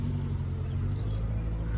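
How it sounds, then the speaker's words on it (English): A car rumbles past on a street up Richmond Hill during a festival, a brief steady low engine and road noise, fairly faint. "here comes a car"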